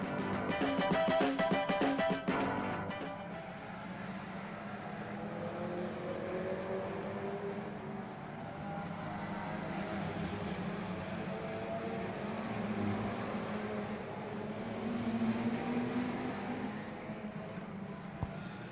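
Stock rod race cars set off at the start of a 20-lap race in 1992, a loud burst of engines at first settling into a continuous blended roar of many cars at moderate distance.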